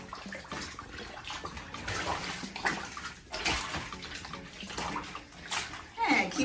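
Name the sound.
cloth diapers being agitated in washing water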